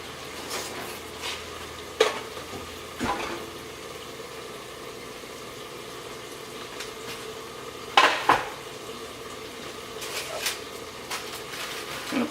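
Bacon fries in a pan with a faint continuous sizzle beneath occasional sharp clanks and taps of a utensil against cookware, close by, with no voices.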